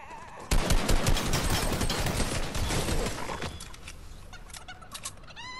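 Fortnite gunfire: a dense, loud burst of rapid automatic shots starts abruptly and crackles on for several seconds, then thins into scattered, fainter pops.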